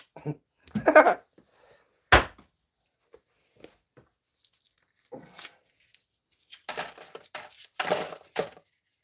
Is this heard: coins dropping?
yes